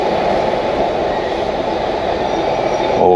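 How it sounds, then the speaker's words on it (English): Trains come and go through a very busy station in Nuremberg, filling the air with a loud, steady rumble of rolling stock and continuous low roar. "The station there is just trains coming and going"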